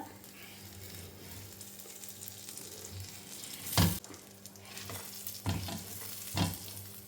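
Al Faham chicken sizzles in a nearly dry pan on the stove, a quiet steady frying hiss with a few louder bursts of crackle as pieces are turned, close by and with no talk.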